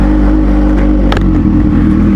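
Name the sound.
Kawasaki H2 motorcycle exhaust revving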